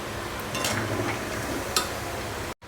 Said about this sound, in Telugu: చికెను ఇలా ఫ్రై చేసుకుంటే సరిపోతుంది